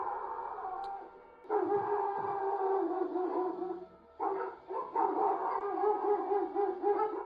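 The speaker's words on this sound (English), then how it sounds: "leaving every neighborhood dog barking in her wake" Neighborhood dogs bark at night in long, continuous overlapping volleys, fairly close and loud, with a brief lull in the middle before the barking resumes.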